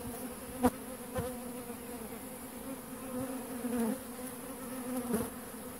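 Bees buzz in a steady, faint drone around a beehive floor tray in a spring apiary, with a few brief louder passes close by and no voices.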